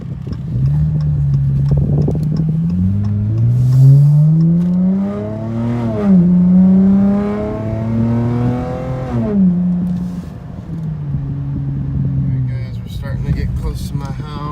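A 2018 Dodge Challenger drives along, its engine note rising and then dropping at several gear changes, steady and fairly loud throughout.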